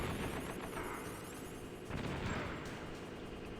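A machine gunner fires in Metal Gear Solid, a faint, muffled spray of rapid gunfire and booms blurring into a continuous rattle.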